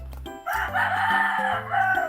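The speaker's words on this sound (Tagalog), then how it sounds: "Pasensya na sa manok" A rooster crows one long, loud call close by, its drawn-out cry rising and holding, with music playing underneath.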